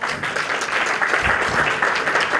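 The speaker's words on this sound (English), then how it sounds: "Can I have her a big round of applause" A convention audience at the PAK Pioneers 2015 gathering claps for Dr. Rashta, a thick, sustained round of applause that swells slightly midway and holds steady to the end.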